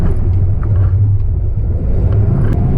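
Jeep Grand Cherokee ZJ V8 with a swapped manual transmission, in four-wheel drive ploughing through deep sand, giving a steady loud low engine drone and rumble from inside the vehicle, with no talking.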